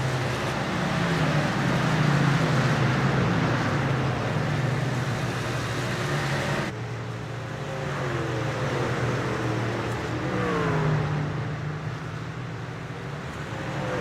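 Racing trucks lapping at the Gateway truck race, with a steady roar of engines droning around the oval, near and loud, rising and easing slightly as the trucks pass.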